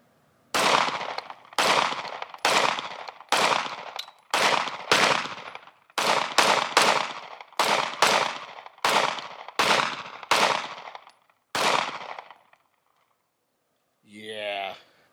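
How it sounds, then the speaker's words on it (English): A Stoeger STR-9 micro compact pistol fires a full magazine outdoors: about fifteen loud, sharp shots at a steady, fairly quick pace, followed by silence and a brief voice at the end. "first mag through the STR-9 from Stoeger"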